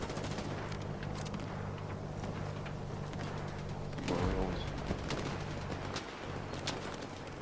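Gunfire rattles through a firefight in S.T.A.L.K.E.R. 2, dense bursts of shots layered over a constant rumbling din, with one heavier blast midway.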